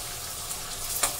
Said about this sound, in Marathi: कांदा मस्तपैकी फ्राय करून घ्यायचा आहे।